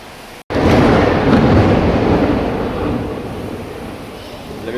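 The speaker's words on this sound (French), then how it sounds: "Il y avait un coup de tonnerre, là, un peu l'orage est au-dessus de notre tête." Thunder cracks and rolls from a storm directly overhead, a loud sudden burst that rumbles on and slowly fades.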